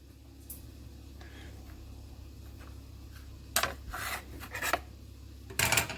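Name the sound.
cutting a strip off polymer clay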